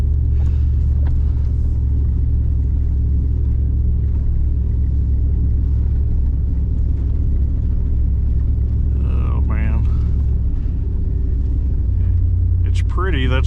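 A car drives along snowy winter roads on the way to work, a steady heavy low rumble of engine and tires filling the cabin, with a few brief squeaks and thumps near the end.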